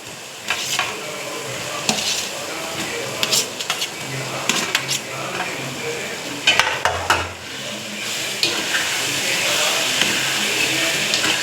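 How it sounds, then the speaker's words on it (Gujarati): Spices cook in a pan for poha with potatoes, a low sizzle running beneath repeated clinks and scrapes of a spoon against the pan, with the frying growing fuller toward the end. "હવે એને આપણે મસાલો નાખ્યો છે તેને આપણે થોડોક પકાવવા દઈશું"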